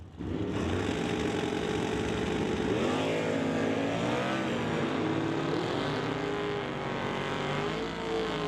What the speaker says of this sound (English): Bring up Daryl Stobie now in the Stobie Construction Chevelle to race Dave Stobie in the Ebbets Holdings